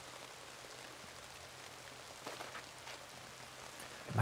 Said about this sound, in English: it looks like it might be too rainy.